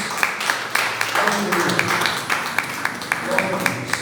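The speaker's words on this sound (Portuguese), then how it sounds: "Dê uma salva de palmas para Jesus." A church congregation claps in praise of Jesus during a sermon, scattered and uneven hand claps mixing with murmuring voices and some talk, moderately close and loud.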